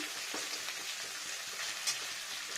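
Garlic and boiled potatoes frying in a pan for a rui fish curry, a steady close sizzle with soft crackling pops and occasional stirring scrapes, no voices.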